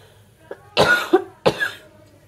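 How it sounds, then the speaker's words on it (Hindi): A woman coughs near the mic in a home kitchen while a dal tadka is being cooked, with a soft cough, then two louder double bursts over a quiet background. "मुझे ना खांसी आना शुरू हो गई है"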